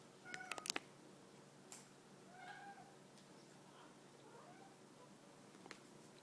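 A pet cat meows a few times in the background of a quiet room, soft and somewhat distant, with a brief cluster of clicks and taps near the start.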